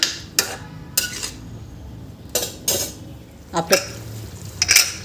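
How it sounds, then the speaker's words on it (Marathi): Rice and water stirred in a pot for peas pulao, with irregular metallic scrapes and clinks of a spoon against the vessel, several distinct knocks over a low background hum. "याला एकदा छान असं परतून घ्यायचं आहे असं मिक्स करून घ्यायचं"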